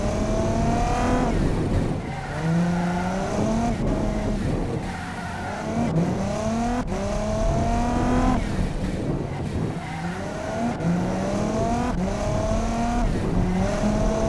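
A 1956 family sedan with a 160-horsepower engine laps a test track in the BeamNG driving game, its engine revving loudly up and down through repeated accelerations and shifts, with no talking.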